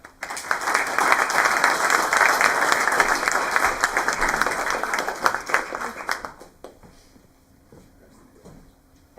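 An audience applauds warmly to welcome speakers at a talk on Vaux's swifts: dense, close clapping holds steady for about six seconds, then thins out and dies away to a quiet room.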